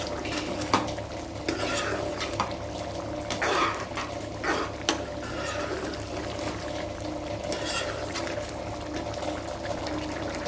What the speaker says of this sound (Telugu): ధనియాల పొడి, వేసేసి కలిపేసేద్దాం.